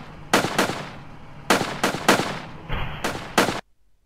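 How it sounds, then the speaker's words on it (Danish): Gunshots from a recorded video of firing outside the Krudttønden venue: about eight sharp, loud cracks in irregular clusters, each with a short ringing tail, ending abruptly in near silence. "der kan man faktisk se, skuddene blive skudt"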